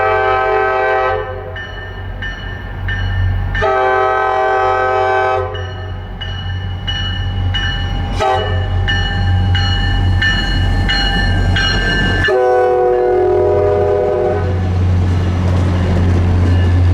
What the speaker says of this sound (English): A westbound outbound MBTA commuter rail train headed towards Wachusett would end off my